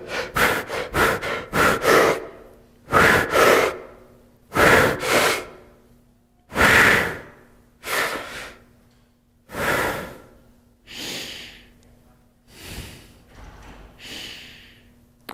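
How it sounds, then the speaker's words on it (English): Slow square breathing exercise, a series of deep inhales and exhales close to the microphone, quick breaths at first, then long even breaths with pauses between them, with no talking. "3 or 4 breaths of this sort of square breathing"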